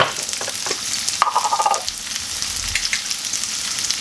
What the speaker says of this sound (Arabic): البصله ديالنا ها هي، نخليوها تقلى وتدبال شويه